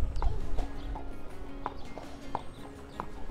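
Slow, evenly spaced hoof clops of a horse walking, several steps in a calm rhythm over soft outdoor background noise.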